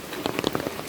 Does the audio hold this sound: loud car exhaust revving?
no